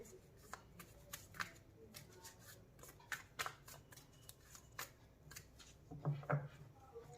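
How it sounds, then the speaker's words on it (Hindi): Tarot deck handled and split into two piles, soft papery card riffles and taps scattered across the clip, faint and close. A low voice murmurs underneath. "इस डेक को करेंगे 2 पार्ट में डिवाइड।"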